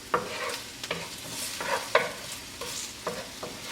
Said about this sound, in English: What I'm doing is mixing the ginger around in my frying pan.